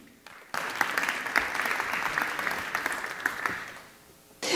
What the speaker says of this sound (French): On applaudit Julie.